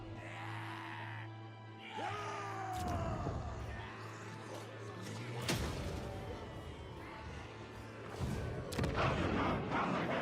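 Dwarf units open fire during a fantasy video game battle, with a few sharp, heavy gunshot cracks and booms standing out against a churning backdrop of battle noise.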